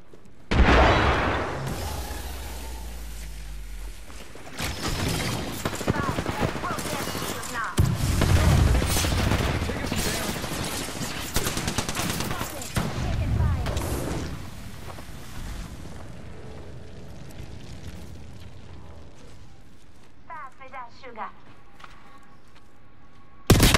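Frag grenade explosion and gunfire in a multiplayer shooter game: a heavy boom near the start, then dense, loud bursts of rapid gunfire and blasts for most of the stretch, fading to quieter game sounds near the end.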